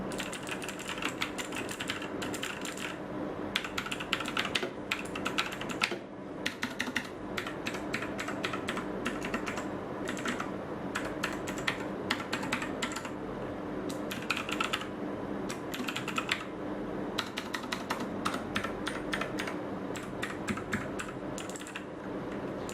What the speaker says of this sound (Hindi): ये वैसा कीबोर्ड है जिसमें टाइप करने में इतना अच्छा लगता है